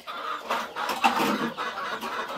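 Kaveri-breed hens cluck and murmur close by in a poultry shed in a short, busy stretch, a few calls overlapping against a soft indoor background.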